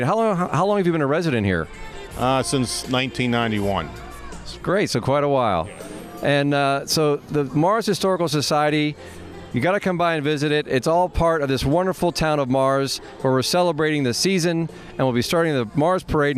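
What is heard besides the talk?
None of the usual background noises is heard.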